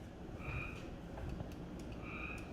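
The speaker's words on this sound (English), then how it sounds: "I love those frogs in the background. It's really not real frogs. It's really just a sound effect." Frog croaks from a sound effect play steadily in the background as an ambient chorus, with recurring croak calls over a constant noisy bed and no talking.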